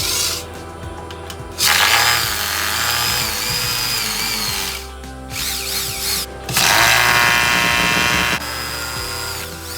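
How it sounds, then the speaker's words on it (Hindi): An electric drill bores holes into a home wardrobe for termite treatment, the high motor whine rising and falling in long loud bursts with brief pauses, plus ratcheting mechanical clatter, no talking. "अब हम यहाँ पर भी ड्रिल करेंगे"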